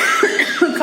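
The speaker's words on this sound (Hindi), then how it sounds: "और खांसी भी बहुत ज्यादा है।" A person with a sore, hoarse throat on the sixth day of illness coughs in a short, close burst of harsh, throaty hacks.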